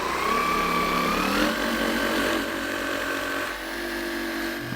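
A machine polisher set to speed 3 runs steadily on a Toyota Prius's paint with advanced finishing polish, giving a continuous motor whine with a slight pitch shift midway, loud and close, with no talk.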